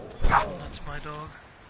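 A dog in the video game Fallout 4 gives a short bark or yip amid game sound effects, with someone talking over it.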